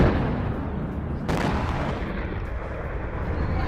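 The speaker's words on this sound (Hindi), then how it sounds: "रूसी मिसाइल गिरने से जोरदार धमाका हुआ।" A Russian missile strike explosion in Kyiv: a heavy, rumbling blast with a sharp boom partway through, followed by a continuing broad roar and distant rumble, with no speech.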